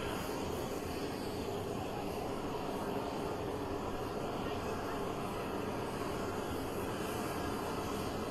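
A C-17 military transport aircraft produces a steady, dense broadband roar that fills the whole stretch at an even level, with no talk heard.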